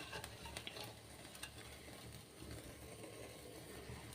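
Chicken roasts without oil on a grill set over a stove flame, giving a steady, quiet sizzle and crackle with a few faint clicks, and no voices.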